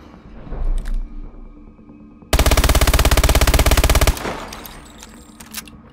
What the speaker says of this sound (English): Let's shoot another magazine.